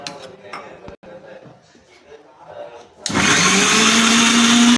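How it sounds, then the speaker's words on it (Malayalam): A blender whirs loudly and steadily as sunflower oil is beaten into mayonnaise, starting abruptly after a stretch of softer kitchen clatter and rising to a sustained high-pitched drone. "അങ്ങനെ കുറേശ്ശെ സൺഫ്ലവർ ഓയിൽ ഒഴിച്ച് അടിക്കണം."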